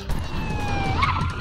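A police car siren wails steadily during a car chase, the tone holding and then sliding upward near the end, heard over road noise from passing traffic without anyone talking.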